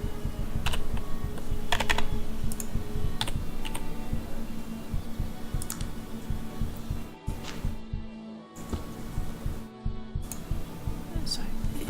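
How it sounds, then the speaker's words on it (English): Rapid typing on a computer keyboard during a game session, a dense run of close clicks and key taps that continues throughout, with a couple of brief pauses near the end. "I'm typing things in there."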